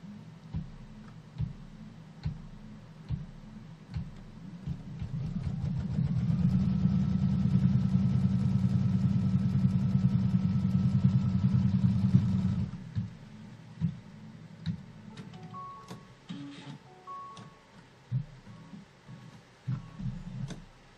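A quilting sewing machine tacks down a strip of fabric, its steady rapid needle hum running for several seconds in the middle of the passage between quieter ticking sounds.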